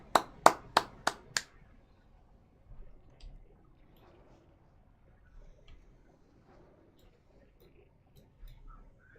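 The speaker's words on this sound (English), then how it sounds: "Nice little golf clap for Fuzzy." A golf clap, five crisp light hand claps in quick even succession, close and alone, followed by near silence with a few faint ticks.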